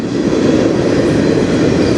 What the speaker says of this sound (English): My 3rd train today.